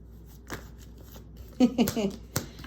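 Tarot cards shuffled quickly nearby: a crisp riffling burst with soft flicks and taps, and a brief voice sound mixed in.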